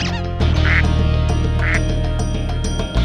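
Squeaky rubber duck quacks from Spyro 2: Ripto's Rage on PS1 in Mystic Marsh, two short honks about a second apart, set against loud bassy looping game music.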